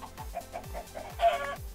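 A Minecraft chicken clucks in the game, a run of short, evenly spaced clucks, close and fairly clear with no talking over them.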